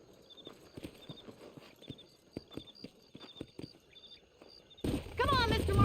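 Horses ride in the Red Dead Redemption video game near Armadillo, their hooves clip-clopping in an uneven rhythmic patter with jingling tack. A rising burst of louder noise cuts in near the end.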